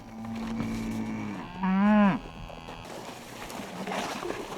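A cow lets out one loud, rising-and-falling moo close by on a Korean dairy farm, set against low barn ambience and faint background noise.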